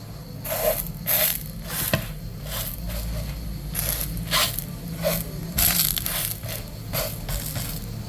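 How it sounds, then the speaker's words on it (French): Soft squishing and slapping of Korean bread dough being pressed and folded by hand, in irregular repeated pushes, close up with no speech. "Le bruit que la pâte émet est trop satisfaisant"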